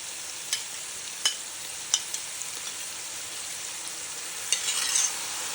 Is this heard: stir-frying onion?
yes